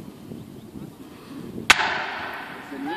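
A single sharp firework bang cracks out suddenly, followed by a fading crackling tail over a quiet outdoor background.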